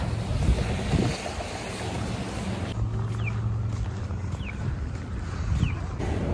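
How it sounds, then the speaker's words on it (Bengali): Strong, cold wind blows outdoors in Canada at around minus twenty degrees, buffeting the microphone with steady gusty rumbling and hiss that swells and eases. "প্রচন্ড হাওয়া দিচ্ছে"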